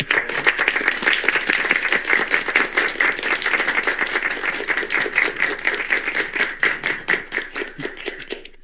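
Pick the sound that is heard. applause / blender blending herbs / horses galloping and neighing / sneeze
applause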